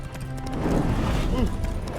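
A spooked horse in The Witcher 3 video game clatters its hooves in a short burst of clip-clop, with a voice speaking over it.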